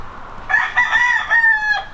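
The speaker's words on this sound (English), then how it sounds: "And there goes the rooster." A rooster crows once in a drawn-out, wavering call, loud and fairly close over faint background noise, with nobody talking.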